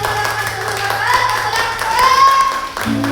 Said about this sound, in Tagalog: Palakpakan muna natin ang malakas.